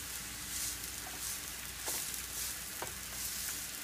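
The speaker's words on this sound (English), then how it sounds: "Stir it around, get it coated with the oil, and let it cook." Shredded butternut squash sautéing in oil in a pan, giving a steady close sizzle and hiss with a few faint utensil taps, quiet overall and without talk.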